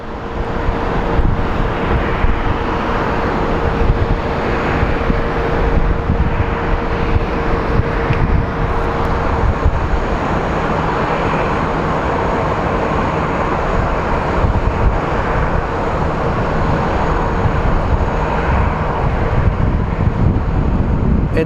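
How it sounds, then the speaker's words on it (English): Hawaiian Airlines Airbus A330 widebody pushing back at Phoenix Sky Harbor International Airport: a steady, broad roar of engines and airport noise with wind buffeting the microphone, continuous and distant, with no talk. "over there, we do have Hawaiian Airlines pushing out."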